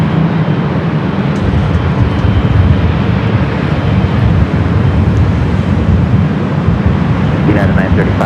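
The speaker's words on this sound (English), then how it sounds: "All right, Emirates finally cleared for takeoff." Emirates airliner rolling for takeoff on runway 24 left at Los Angeles airport, a loud, steady broadband jet roar with wind buffeting the microphone throughout.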